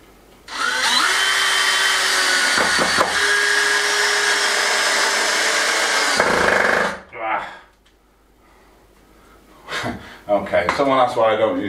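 A power drill drives screws into wood on an old Spanish farm renovation, whining steadily for several seconds, then stopping; brief rustling and a short second burst follow near the end, close up.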